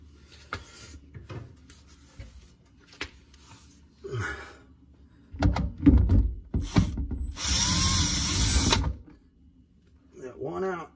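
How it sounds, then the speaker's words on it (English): Power drill running in reverse to back a screw out while replacing a leaky garbage disposal under a sink: a loud whirring burst of about two seconds among clicks and handling knocks, with someone talking. "So I got that in my drill here. Make sure it's in reverse."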